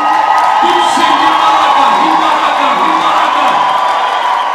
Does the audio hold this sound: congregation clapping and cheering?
yes